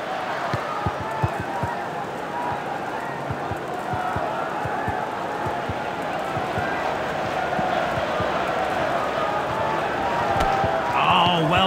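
A football stadium crowd roars in support of its team after a goal. The broad crowd noise holds steady and loud throughout, with scattered thumps and shouts mixed in.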